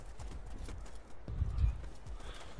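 Horse hoofbeats from cavalry in a medieval battle video game set at St Albans, a rhythmic clip-clop that swells louder and heavier as the horse nears, with faint voices talking over it.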